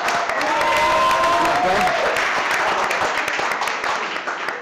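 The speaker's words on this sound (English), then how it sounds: "Please give a big round of applause for Paul Boucher." Audience at a cooking competition applauds and cheers for pastry chef Paul Boucher, loud sustained clapping with voices calling out, tapering slightly toward the end.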